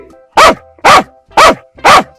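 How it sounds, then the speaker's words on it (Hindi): Four sharp dog barks in an even, steady rhythm, loud and close, with near silence between them. "कहकर भौंकने लगी"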